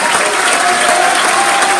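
A church congregation at a pastoral ordination service in Jaçanã applauds, a loud, steady wash of clapping from a large crowd that fills the short moment from start to finish.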